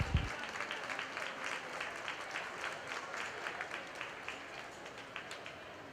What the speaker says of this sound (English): Let's give all those exhibitors a nice round of applause.